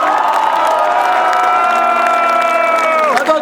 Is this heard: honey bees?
no